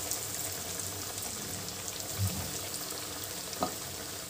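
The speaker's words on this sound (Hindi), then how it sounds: "इसको हम गर्म गर्म तेल में हाई फ्लेम पे ही फ्राई कर लेंगे" Leftover-rice cutlets fry in hot oil over a high flame: a soft, steady crackling hiss with a couple of brief louder pops, fairly quiet and with no voices.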